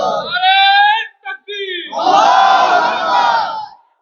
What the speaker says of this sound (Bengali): যারা কারা রাজি একটা স্লোগান দিয়ে দেখান